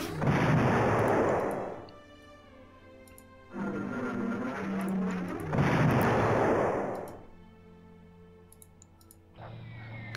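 Bombing strikes in the WarPlan strategy war game, heard as three long, loud rumbling explosion bursts separated by brief pauses, followed by a short clicking interface sound.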